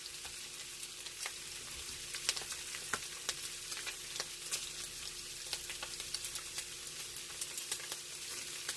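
Squash and pork stir-frying in a pan with black pepper, a quiet, steady sizzle broken by frequent light ticks and pops from spattering oil, with no talking.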